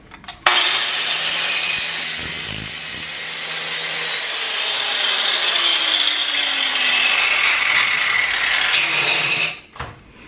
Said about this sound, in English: I'm just going to use a 4-inch grinder and grind that thing down